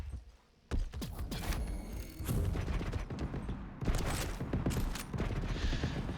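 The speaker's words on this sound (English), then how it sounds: "vengeurR doing so much damage with that machine gun" Rapid machine gun fire in a Quake Pro League deathmatch, dense and continuous over layered game effects with sharp bursts throughout, loud and close.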